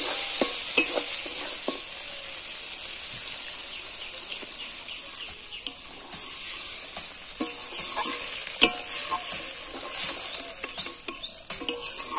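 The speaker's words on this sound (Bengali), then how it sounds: "মশলা থেকে তেল ছেড়ে দিয়েছে। এখন আমি জল দিয়ে দেবো।" Spice masala frying in oil in a pan as water goes in, producing a continuous close sizzle with scattered utensil clinks and stirring scrapes against the pan.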